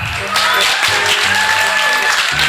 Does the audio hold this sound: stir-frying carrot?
no